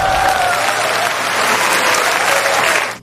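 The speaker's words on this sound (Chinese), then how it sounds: "我们掌声欢迎" Applause welcoming a contestant, a dense steady clapping from a crowd that holds at full volume for about three seconds before cutting off, with a faint tonal sound underneath.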